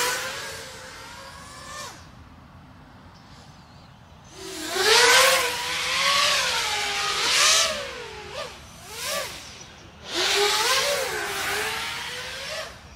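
A 7-inch long-range FPV drone on a 5S 2200 battery cruises at about half throttle, its propeller whine rising and falling in smooth swells, fading away and then returning loud and close, with no talk.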